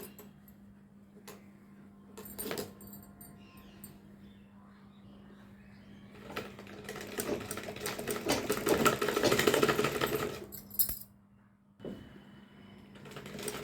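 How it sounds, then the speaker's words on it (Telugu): A sewing machine stitches a boutique-style lined blouse, humming quietly with scattered clicks before breaking into a loud, steady whirring run of several seconds, then stopping and briefly starting again. "నేను కుట్టు వేసేస్తున్నాను. చూడండి ఫ్రెండ్స్, ఇప్పుడైతే మీకు కుట్టు వేసి చూపిస్తున్నాను."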